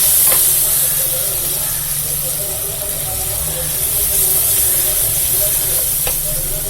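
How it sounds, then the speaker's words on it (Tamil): Mint leaves sizzle and hiss in a hot pan of oil while biryani is being cooked, a steady close frying sound with faint stirring scrapes. "இந்த புதினா இலையை போட்டாச்சுப்பா"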